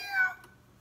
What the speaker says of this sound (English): don't be rude, say hey to Kitty